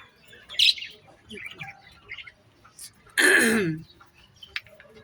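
Short myna chirps and squawks come and go between quiet stretches, with one longer harsh, throaty call in the middle, close by.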